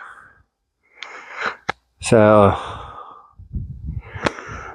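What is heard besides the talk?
heavy breathing after hiking uphill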